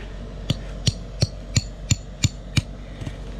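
Eight sharp, evenly spaced hammer strikes drive in a tent peg for a side awning, ringing out in a steady rhythm, close by, over a low outdoor hum.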